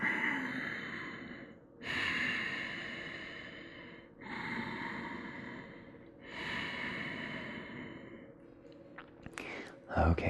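Slow, deep breaths held in a lizard pose during a yoga class, about four long exhalations roughly two seconds apart, close and soft with no talking.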